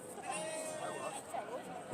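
Valais Blacknose sheep bleat at a show judging ring at the Royal Welsh Show, several faint, wavering calls rising over a steady crowd murmur and distant chatter.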